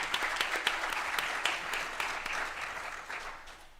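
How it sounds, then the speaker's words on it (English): Audience at a school board meeting giving a round of applause for the board members, a dense, even clapping that holds steady and then gradually thins and fades toward the end. "How about a nice round of applause,"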